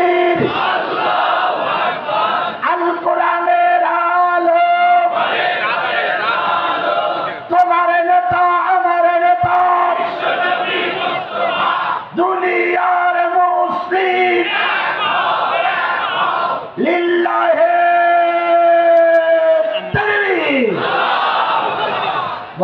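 A large crowd at an outdoor Islamic religious gathering roars a loud, sustained collective chant of the Naraye Takbir response, with voices rising and falling in waves for about twenty seconds.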